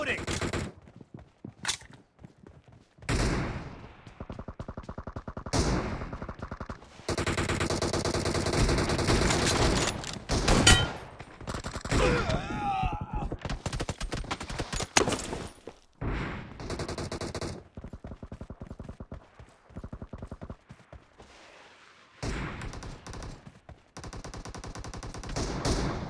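S12K shotgun fire in PUBG Mobile, loud, rapid blasts in dense bursts mixed with other in-game gunfire and effects, continuing through most of the stretch with short gaps.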